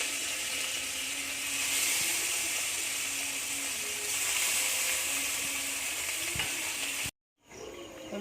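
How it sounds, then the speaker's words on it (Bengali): Pieces of rohu fish fry in hot oil with a loud, steady, crackling sizzle. It runs unbroken for about seven seconds, then cuts to a brief silence before the frying returns faintly. "রুই মাছগুলো প্রথমে ভেজে নিচ্ছি"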